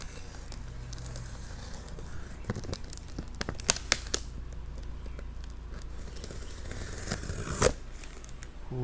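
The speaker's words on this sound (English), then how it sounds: "Let's cut this thing out." A boxed Boom Racing BRX02 Land Rover Series III 109 RC car having its cardboard packaging cut open: close, quiet crinkling and tearing, with several sharp cuts and snaps and a louder rip near the end.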